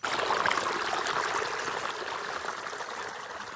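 Irrigation water flows through a channel in a farm field, a dense, continuous rushing and trickling that is loudest at the start and eases slightly as it continues, with no voices.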